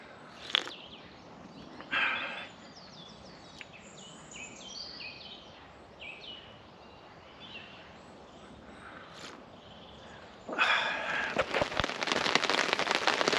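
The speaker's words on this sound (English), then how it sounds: "Well, that was a bit of a downpour." Heavy rain drums steadily on a taut tarp, building from scattered drops to a loud, dense downpour close overhead.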